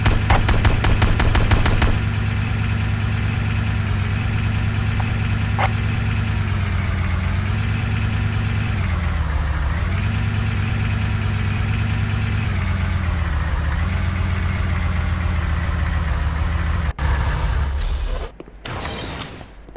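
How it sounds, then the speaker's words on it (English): A Humvee in Command & Conquer: Renegade, its engine droning at a steady mid-pitched hum as it drives around a track, with a brief rapid burst at the start and a cut-off at the end. "Take the Humvee around the entire track to complete the next objective."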